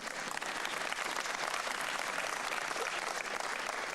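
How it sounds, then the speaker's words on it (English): Spectators at a three-cushion billiards match applaud after a shot, a soft, distant, steady wash of clapping from the crowd lasting a few seconds. "And again, the audience applauding for your performance."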